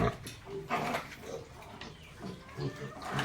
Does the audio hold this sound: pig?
yes